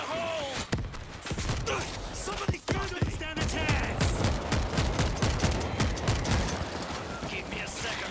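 Rapid gunfire from the zombie shooter game World War Z: Aftermath, dense bursts of automatic shots and single cracks running continuously and loudly, with a player's excited voice talking over the action.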